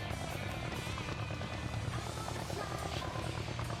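A spinning propeller aircraft in Sonic Adventure DX drones steadily with a dense, buzzing rotary hum, continuous and fairly close throughout with no pauses.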